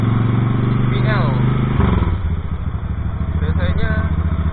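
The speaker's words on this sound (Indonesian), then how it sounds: "Jadi ini adalah motor Suzuki Intruder" A Suzuki Intruder VL1500 V-twin motorcycle runs with a steady, low, throbbing rumble, heard close and loud beneath someone talking over it.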